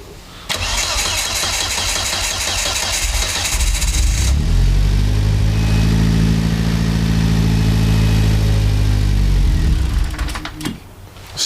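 An Audi A3 race car engine fires up and runs with a loud, close, rough idle that settles and holds steady, then cuts out near the end.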